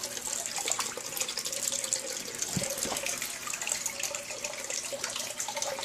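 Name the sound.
splashing water into gold pan of paydirt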